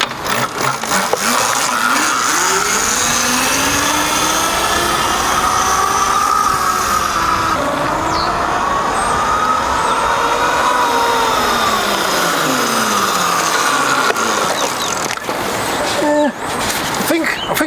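Titan X 60 volt electric pit bike ridden past, a steady whine rising and falling in pitch as it speeds up and slows, loud and continuous with wind noise throughout.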